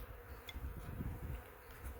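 Honey bees hum steadily inside a hive opened for inspection on a cold March day, a low continuous drone heard close up without talk.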